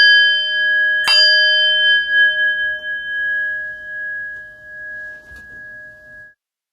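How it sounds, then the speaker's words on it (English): A meditation bell gives one clear, bright strike that rings on with a long, pure sustain, fading slowly over several seconds in a quiet room. "I'll ring the bell twice to begin"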